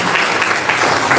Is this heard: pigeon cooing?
no